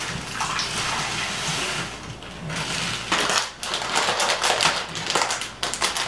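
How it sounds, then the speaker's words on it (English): A full pound of frozen mixed vegetables pours out of a bag, a close, crunchy rattling clatter of hard icy pieces tumbling in uneven bursts with brief pauses, no talking. "Use a whole pound of frozen mixed veg here."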